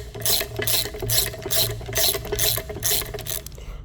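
A ratchet wrench cranks on tight bolts secured with blue Loctite on a MOLT table top, with about eight loud, evenly spaced rasping clicks of the pawl, close up and alone.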